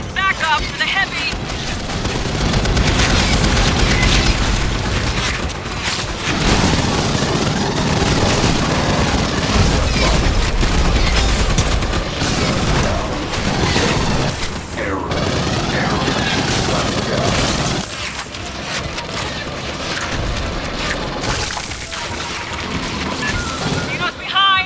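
Dense, continuous gunfire and booming blasts from a firefight in the video game Aliens: Fireteam Elite, loud and sustained throughout, with game voices calling out over the shooting.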